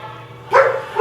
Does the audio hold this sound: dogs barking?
yes